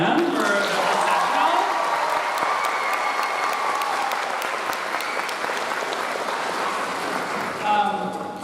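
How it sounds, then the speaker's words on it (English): Audience applause at a 2025 middle school graduation, honoring the high school band after the processional: a dense, steady wash of clapping from a large crowd that holds for the whole stretch, with a faint voice surfacing briefly near the end. "can we get a round of applause for our Forte Prep High School band"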